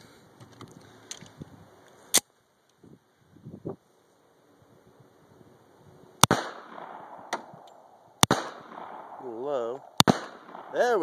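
Gunshots fire hollow point rounds into targets outdoors, with four sharp, loud cracks spaced several seconds apart, separated by quieter rustling and faint handling noise and a warbling tone near the end.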